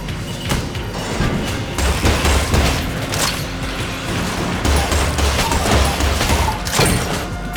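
Rapid shock rifle fire with heavy bullets in the video game Enter the Gungeon, a loud, dense run of booming shots and impacts that carries on steadily through the whole stretch with no talking.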